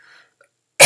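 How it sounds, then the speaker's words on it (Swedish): A single sharp cough bursts out close and loud right at the end, following near silence. "Det kan hända att jag hostar."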